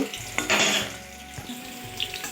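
Jute leaves (pat shak) fry in a pan with a low, uneven sizzle under background music, and a few brighter spatters break through.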